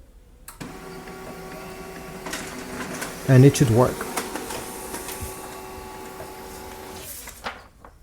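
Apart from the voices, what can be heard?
HP LaserJet MFP M234sdw printer printing pages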